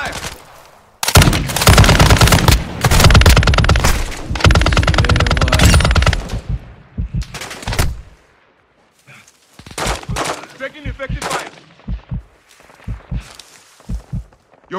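Rapid automatic gunfire bursts in the Call of Duty: Warzone 2.0 DMZ shooter game, loud and dense for several seconds, then thinning into scattered shots, footsteps and gear rustle.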